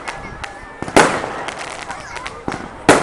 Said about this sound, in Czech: Na závěr byl krásný ohňostroj.